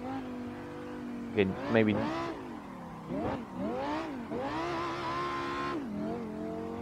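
BMW M5 E60 with its V10 engine revving on a mountain road, the engine note climbing and falling in long harmonic sweeps, rising to a high wail near the end, with voices talking over it.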